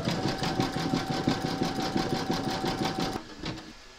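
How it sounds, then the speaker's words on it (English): An embroidery machine zigzag stitching in the hoop to join appliqué pieces of a scarecrow, a close, fast pulsing clatter with a regular rhythm that stops suddenly, leaving a few faint clicks. "Pop your hoop into your machine and stitch round number 11, and that's going to zigzag up here and join the two pieces together"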